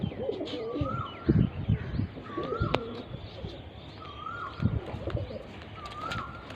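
Repeated soft pigeon coos drift through the clip, with other birds chirping and a bustling, noisy background.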